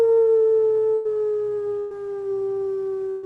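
A single voice lets out a long, steady howl imitating a wolf during a shamanic journey circle, held with a slowly falling pitch and no other sounds around it.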